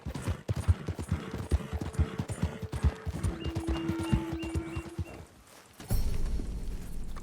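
Horse hooves clip-clopping at a walk in Red Dead Redemption 2, a steady rhythmic run of close, crisp hoof falls over a low ambient bed, then quieter before a burst of broader game noise.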